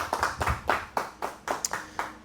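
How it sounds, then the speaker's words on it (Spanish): About ten separate handclaps in a steady rhythm during a church service, close and fairly loud, like one or a few people clapping along. "Le damos un aplauso a Dios por su misericordia"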